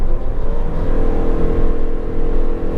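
A Nissan Serena e-POWER pulling away as the accelerator is pressed, its close, loud motor whir holding a smooth, even drone with no talking.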